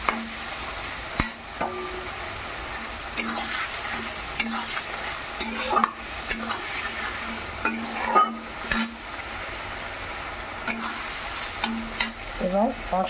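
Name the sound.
spice paste frying and being stirred in pan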